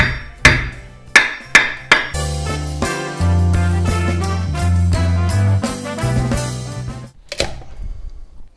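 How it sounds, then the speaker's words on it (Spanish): Several sharp hammer blows strike a coconut to crack it open, four spaced knocks up close, followed by a stretch of sustained clattering noise and one final hit. "golpeando el coco hasta que se abra"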